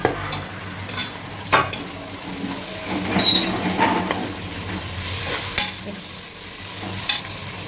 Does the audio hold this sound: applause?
no